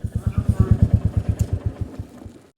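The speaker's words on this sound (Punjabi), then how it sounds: "ਇਧਰ ਸਾਹਮਣੇ ਖੜੇ ਕਰਤੇ ਜੀ ਮੋਟਰਸਾਈਕਲ" A motorcycle being parked, its engine thumping in a loud, close, regular beat that slows and fades as the engine cuts off at the end.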